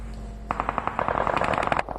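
Rapid automatic gunfire in a battle royale video game, a loud close burst of quick repeated shots that grows denser, with a steady low hum underneath.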